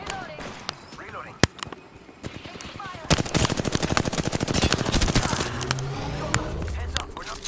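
Rapid automatic gunfire in a multiplayer shooter video game: scattered single shots give way to sustained, dense rattling bursts, loud and close, with voices talking and shouting over the combat.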